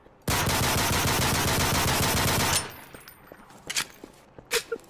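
Automatic gunfire from a Call of Duty Modern Warfare 3 mod in Garry's Mod, one long loud burst of rapid shots lasting about two seconds, followed by a few scattered sharp single shots and quieter movement.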